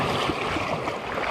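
Surf washing against the rocky shore of a Caribbean island beach at Cayo del Agua, Venezuela, a steady, full rush of water with some wind noise and no talking.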